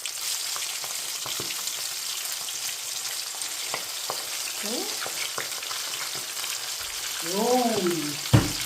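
Chicken frying in hot oil for a home fried chicken dinner, a steady broadband sizzle throughout with occasional clicks and brief voice-like sounds, rising slightly toward the end.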